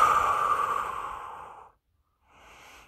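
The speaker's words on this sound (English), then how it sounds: "Deep breathing." Deep breaths taken in a quiet room: a long, loud breathy exhale fading over about a second and a half, a brief silence, then a softer inhale starting.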